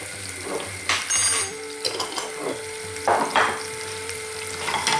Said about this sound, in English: Keep frying them until your mustard seeds start popping.